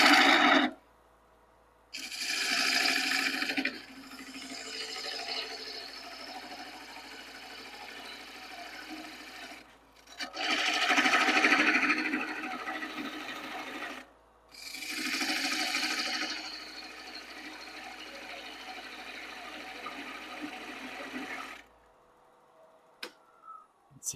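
A lathe turns box elder wood while a gouge takes out center mass, giving long bursts of hissing, scraping cuts that are separated by short silences, set over a low steady hum that stops near the end.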